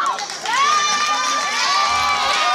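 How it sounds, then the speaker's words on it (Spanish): Crowd of children shouting and cheering loudly at a festive group event in Spain, a sustained excited roar with high voices rising and falling close by. "vamos a aplaudirles"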